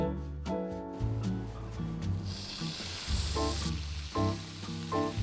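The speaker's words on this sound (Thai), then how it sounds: "ใส่เนยแล้วตามด้วยเนื้อของเราได้เลย" Beef fries in melted butter in a hot pan with a steady loud sizzle. Crackling spatters rise and fall over a low rumble, and faint background music plays alongside.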